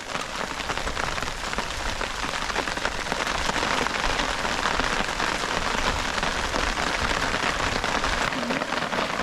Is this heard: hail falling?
yes